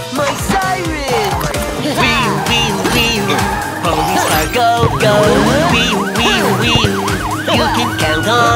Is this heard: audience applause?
no